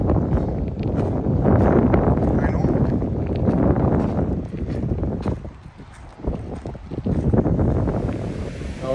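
Sea waves and strong wind at Mamaia beach on the Black Sea, a continuous roaring wash of surf with gusty wind buffeting the microphone, loud and close throughout.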